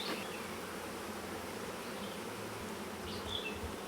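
Honeybees buzzing at an open hive on a Hawaiian homestead, a dense, continuous drone that stays steady and fairly close, with a few louder individual bees passing near.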